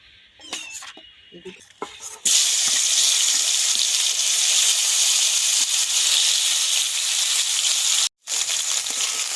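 Pieces of tilapia fish sizzle loudly and steadily in hot oil in a home kitchen, a dense frying hiss that starts after a few seconds of quieter handling and briefly drops out near the end.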